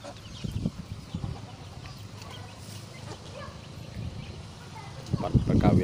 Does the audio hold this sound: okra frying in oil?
no